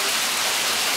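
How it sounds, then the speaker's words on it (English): Hail pelts down during a hailstorm in El Cajon, a dense, steady hiss of ice pellets striking surfaces, loud and continuous with no talk. "What do you think of this hail, Casey?"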